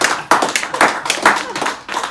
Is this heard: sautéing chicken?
no